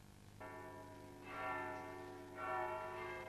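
Church bells in the tower of San Pedro in Arcos ring the toque de ánimas, three separate swelling strikes whose resonant tones linger and overlap, moderately distant with no talking.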